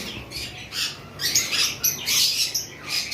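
Small pet lovebirds and conures chirp and squawk in quick, overlapping bursts at a bird seller's, close by and fairly loud, with no talking.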